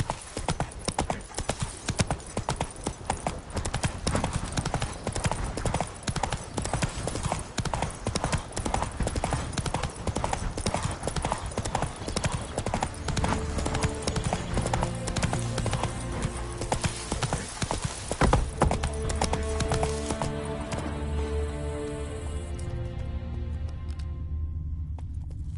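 Roach the horse gallops in The Witcher 3, with rapid rhythmic hoofbeats that run steadily and loudly, then slow as game music swells toward the end.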